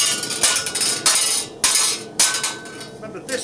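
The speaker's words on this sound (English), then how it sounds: "we can get this down by just giving it a couple of smacks whilst it's on the anvil" Hot armour steel being hammered on an anvil while shaping medieval rerebraces, with five or six sharp, ringing metallic strikes at an uneven pace, each followed by a brief decaying ring, loud and close.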